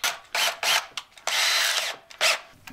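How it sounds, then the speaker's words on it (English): A power drill fitted with a centering bit bores center holes in a wooden door for a skoolie interior, running in several short close bursts and one longer run, with brief pauses between. "I'm gonna use that fancy drill bit."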